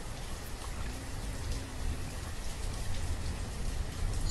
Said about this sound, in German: regnet's und soll ruhig weiter regnen